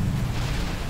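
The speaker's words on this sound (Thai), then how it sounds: "ระเบิดแล้ว" Explosion from Naruto Shippuden Ultimate Ninja Storm 4, a deep, loud rumbling boom that fills the whole second with dense low-end roar and no talk.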